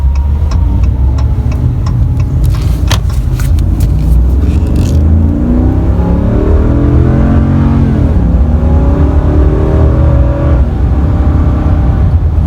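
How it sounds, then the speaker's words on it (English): A 2019 RAM 2500 Heavy Duty Tradesman pickup with an 8-speed transmission accelerates hard from inside the cab, its engine note climbing loudly through the gears after a few quick ticks at the start. "Really good acceleration with this truck"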